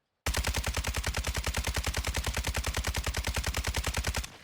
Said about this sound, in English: thumbs off analog sticks and just empty out a mag